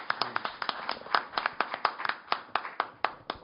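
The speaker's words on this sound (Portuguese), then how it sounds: "a quem eu já peço aplausos de boas-vindas" A sparse welcoming round of applause at a cultural academy evening event: a few distinct hand claps repeating at a fairly steady rhythm, moderately close but modest in volume, with no voices over them.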